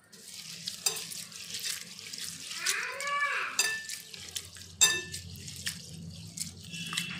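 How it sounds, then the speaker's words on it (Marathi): Rice, chana dal and poha are washed in a large bowl of clean water, giving soft swirling, sloshing and rubbing noises close by with occasional sharper splashes, no voices. "की 2-3 वेळा मी स्वच्छ पाण्याने धुवून घेत आहे।"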